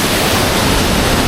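Rushing roar of a hidden waterfall in the jungle near Pai, Thailand, heard up close as a loud, steady, broadband wash of falling water with no talk over it.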